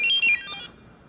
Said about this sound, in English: That's the strangest pager I've ever heard.